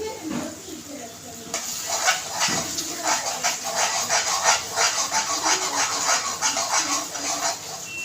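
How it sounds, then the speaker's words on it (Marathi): A spoon stirs misal masala frying in oil in a pan, giving a steady close scraping and sizzling with rhythmic strokes throughout and a brief clatter near the start. "आपल्याला सारखं हलवत राहायचं आहे"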